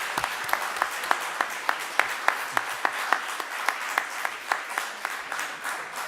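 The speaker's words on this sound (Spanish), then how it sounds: "Yo os aplaudo." Audience applause fills the room at a Spanish book presentation, a steady patter of many hands with sharp individual claps standing out at a regular pace, moderately loud and sustained throughout.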